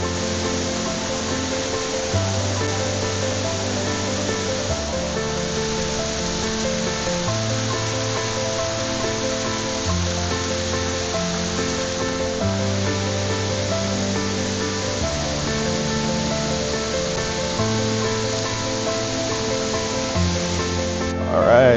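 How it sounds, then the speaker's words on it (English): A waterfall fed by a lava flow beside a lava cave in southern Japan roars as a steady, close wash of rushing water, with music playing over it throughout. "This cave here is actually the magma that flowed and stopped and caused this waterfall."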